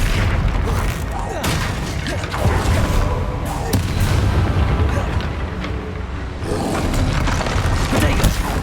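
Flipendo spell being cast during a Hogwarts Legacy video game battle, heard as a busy, loud stream of booming impacts and crackling magical bursts that overlap continuously with some brief sharp hits.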